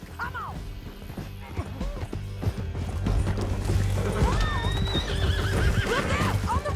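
Horse in Red Dead Redemption 2 whinnying and neighing over rapid clip-clop hooves as it gallops, with game sounds, shouting voices and a crash in the mix, loud and close throughout.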